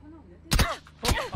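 Gunfire in an online multiplayer shooter match: two sharp, loud bursts about half a second apart, with a player's voice talking around the shots.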